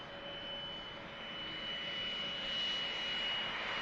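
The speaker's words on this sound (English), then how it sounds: "Here is that BizJet I could hear whining." A business jet at Manchester Airport spools up its engines before taxiing, a thin high whine riding over a broad rushing roar that swells slightly toward the end, heard from some distance with no talking.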